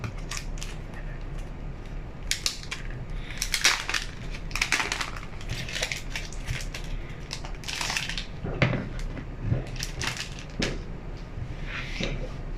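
Plastic wrap is peeled off a new Kindle 10th Generation e-reader in a run of sharp, irregular crinkles and crackles, loud and close, with brief quieter gaps between bursts and no talking.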